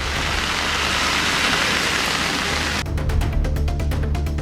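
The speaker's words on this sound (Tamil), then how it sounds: "கூட்ரோடு உள்ளிட்ட இடங்களில் கனமழை கொட்டியது." Heavy rain pours in a dense, loud, steady hiss on surfaces, continuous throughout, with a slight change in texture near the end.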